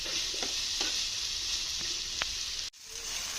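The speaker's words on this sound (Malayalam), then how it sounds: "നന്നായിട്ട് ഇളക്കി കൊടുക്കാം." Okra masala (ladies finger) stirred in a hot pan, a steady close sizzle with a few soft spoon scrapes and clinks, briefly cutting out near the end before resuming.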